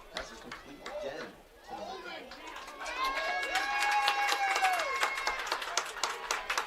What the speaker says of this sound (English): The crowd seems appreciative.